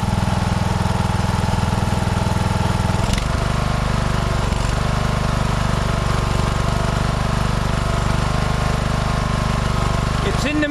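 Lawn mower engine running steadily at mowing throttle after being raised from its lowest setting, a loud continuous drone with a brief change near three seconds and voices talking over it.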